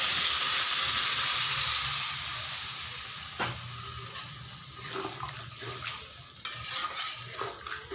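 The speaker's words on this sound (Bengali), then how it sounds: "দিয়ে দিচ্ছি সামান্য পরিমাণে জল।" Water poured into a hot pan of Bengali jackfruit curry bursts into a loud hissing steam that fades over a couple of seconds, followed by quieter sizzling and spoon stirring scrapes close by.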